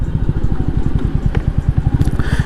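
A Royal Enfield Meteor 350 motorcycle braking hard on a road, its single-cylinder engine thumping in a steady, fast low pulse throughout, with a couple of faint clicks over the top.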